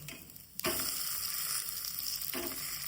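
Uttapam frying in oil on a griddle, a bright steady sizzle that swells suddenly after a quieter start, with a brief clatter near the end and a fairly close, even hiss.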